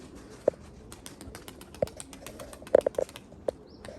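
A pigeon in training flaps its wings in several short bursts, one near the start, one in the middle and a quick cluster toward the end, close and fairly clear over a low background hum.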